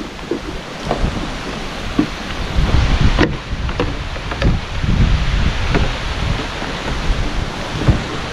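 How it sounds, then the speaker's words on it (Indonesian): Strong gusting wind buffets a microphone outdoors in Buniasih, Tasikmalaya during windy season, a steady low rumble with irregular thumps and surges and scattered faint knocks. "Cuaca di sini sangat berangin karena mungkin lagi musim-musimnya angin"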